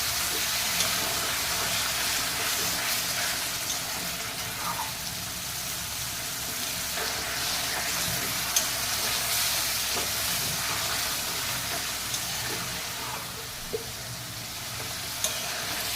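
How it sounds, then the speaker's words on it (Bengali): Spice masala sizzling and frying in a pan while being stirred, with a little water added; a steady broadband hiss of sizzle and steam runs throughout, with occasional scraping stir sounds close by and no talking. "এবার এর মধ্যে আমি অল্প করে জল দিয়ে দেবো, দিয়ে মশলাটা আর একটু কষাবো।"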